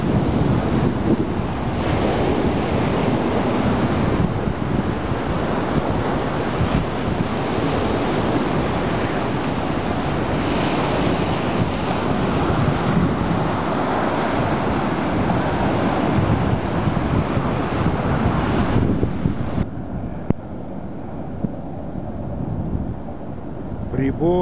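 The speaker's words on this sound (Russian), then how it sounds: "Прибой" Ocean surf rolls onto an Atlantic beach on Sanibel Island, Florida in the morning, a continuous loud roar of breaking waves with wind buffeting the microphone, easing near the end.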